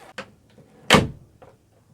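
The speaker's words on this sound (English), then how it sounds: "and shut the door behind me." A door in a haunted house shuts with one solid, close thud, preceded by a faint creak or latch click and followed by a soft rattle, then near silence.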